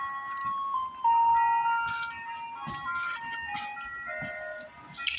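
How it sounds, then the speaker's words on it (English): An ice cream truck plays its jingle, a chain of bright, steady melodic tones carrying on through the whole stretch at moderate loudness, with no talk over it. "Time for the ice cream truck to come."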